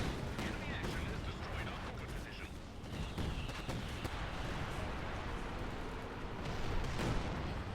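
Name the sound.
bombing run and anti-aircraft fire in Company of Heroes 2 video game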